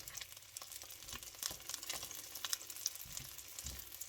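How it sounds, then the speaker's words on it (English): Wild mushrooms fry in butter with a faint, soft crackle and scattered small pops at low level, with no voices. "let them cook for a little while in that lovely butter"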